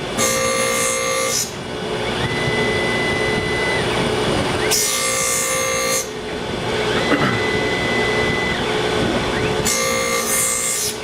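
Tormach PSG612 surface grinder working CPM S90V steel, a steady mechanical whine and hum with brighter hissing bursts recurring at intervals as the wheel passes over the workpiece.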